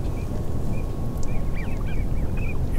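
Ducks calling on open water during a public land hunt, several quacks and short honking calls scattered at moderate distance over a loud, rumbling wind-like background, no talking.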